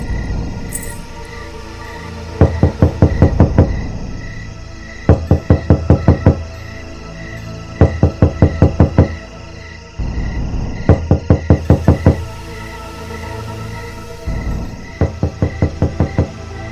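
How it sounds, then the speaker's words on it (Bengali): Knocking on a hotel room door in a mountain setting during a Bengali ghost story, heard as six rapid, loud bursts of several sharp raps each, separated by short pauses over a low steady background hum. "দরজা ধাক্কানোর শব্দ, আমার রুমের দরজায় কে যেন ধাক্কা"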